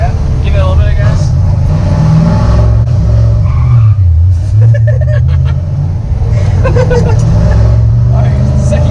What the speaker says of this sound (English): You did a burnout